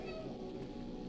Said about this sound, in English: Can you press the meow button for audio check?